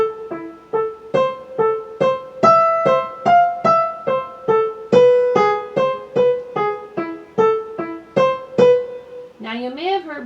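A solo piano plays the whole first line of Schumann's The Wild Horseman as a quick run of about twenty short, bouncy notes in a steady galloping rhythm. It sounds close and clear, and a brief spoken sound comes at the very end.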